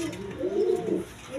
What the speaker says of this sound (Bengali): এইখানে এক পেয়ার রেসার কবুতর আছে দেখেন